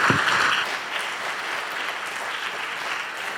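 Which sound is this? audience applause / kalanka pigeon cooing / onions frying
audience applause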